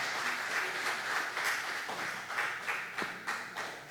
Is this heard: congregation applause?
yes